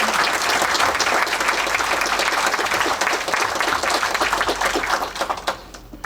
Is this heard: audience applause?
yes